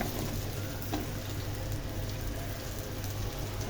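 Chillies and onions frying in a pan for a dried shrimp bharta: a steady, dense sizzle with crackling, close and continuous throughout.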